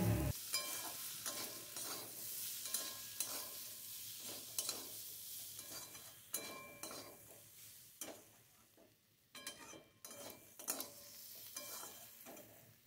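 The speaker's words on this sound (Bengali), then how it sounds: "দেখো অনেকক্ষণ ধরে আমি মশলাটা কষিয়ে নিয়েছি।" Spice paste for a Bengali banana flower curry (mochar ghonto), seasoned with Kashmiri chilli powder and meat masala, sizzles steadily in a pan while a spoon scrapes and stirs it in repeated strokes, close and fairly quiet, with no talking.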